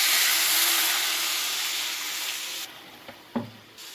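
Fried split red lentils sizzle loudly in a pan with a broad, steady hiss that thins and drops away as water goes in, followed by a few soft knocks.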